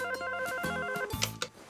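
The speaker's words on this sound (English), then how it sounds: "Mr. Archie Andrews on the phone for you, Miss Lodge." A telephone rings in repeated electronic trills, bright and close, with a soft burst of background music mixed in and no talking.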